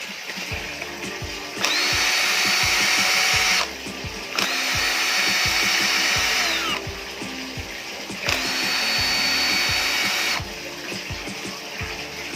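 Three separate whirring power-screwdriver bursts, each about two seconds long, back out the Phillips screws holding the fuel-injection choke actuator on a Honda Supra GTR motorcycle, with short pauses and light clicks between them.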